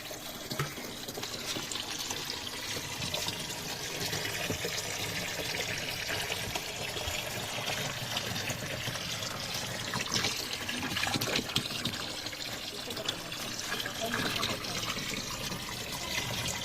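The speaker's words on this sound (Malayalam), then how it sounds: "ഈ വെള്ളം നമുക്ക് ചെടിക്ക് ഒഴിച്ചു കൊടുക്കാം." Water from a fish tank is poured onto plants in a steady, continuous splashing trickle, moderately quiet with outdoor background noise.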